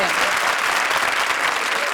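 Studio audience at a Comedy Circus Kaante Ki Takkar taping bursts into steady, loud applause, a dense wash of clapping from many hands that carries through without a break.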